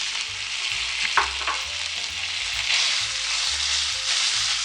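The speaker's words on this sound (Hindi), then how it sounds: "तो कलर चेंज होने तक मैं इसको ऐसे फ्राई करूँगी।" Chicken mince, 250 g, frying in a pan with lightly browned garlic, giving a steady broadband sizzle with a few scraping stir clicks and a low hum beneath, no voices.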